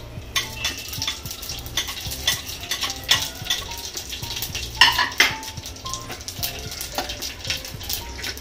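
Cloves, bay leaf and shahjeera hit hot oil in a pot and crackle with an uneven sizzle, punctuated by repeated spoon clinks and scrapes against the metal, close and fairly quiet.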